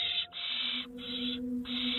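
Owls call as tawny owls chase a young barn owl, giving long, rasping, hiss-like screeches in three drawn-out bursts separated by short breaks, loud and close, with a faint low tone underneath.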